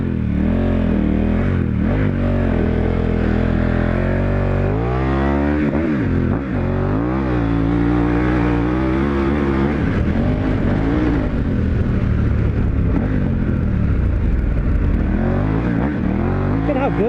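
A dual sport motorcycle on Mitas E-10 Dakar tires rides off-road with a loud, close engine drone that rises and falls as the throttle changes, and a rider talks over it.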